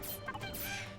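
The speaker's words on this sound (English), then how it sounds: "we're just shooting some birds right now" Birds being shot in the video game Bullet Heaven 2 give a dense, continuous squawking and clucking bird-like chatter mixed with game noise, fairly loud and steady throughout.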